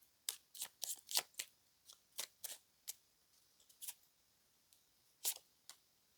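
Tarot cards being shuffled, a quick series of crisp riffling snaps in clusters followed by a few sparser flicks, close and quiet with no speech.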